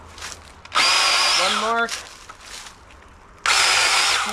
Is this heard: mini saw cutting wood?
yes